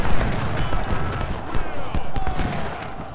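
Gunfire from Civil War era battle in the strategy game Ultimate General: Civil War crackles as dense, loud musket volleys with dull booms, nearly continuous, with a voice talking over it.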